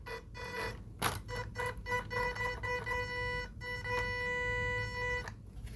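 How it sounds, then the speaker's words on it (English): Electronic speed controller in an MN82 Land Cruiser mini RC car gives off a loud, horn-like tonal whine with steady harmonic bands, broken by short gaps and clicks, continuous and close throughout. "the ESC sounds like a horn"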